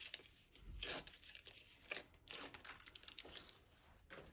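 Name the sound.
peeling backing paper off adhesive card pieces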